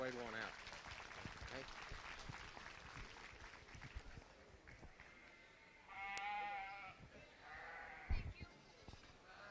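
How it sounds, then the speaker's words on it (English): Faint, steady applause from a crowd at a junior market lamb show, with a few lamb bleats rising over it partway through. "if you would, with a nice round of applause."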